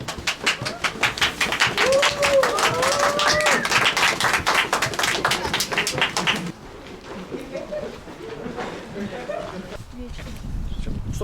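Lively clapping from a group celebrating a finished Viking talisman in a reenactment village, a dense burst of claps for about six seconds before it drops off into quieter murmuring and talk.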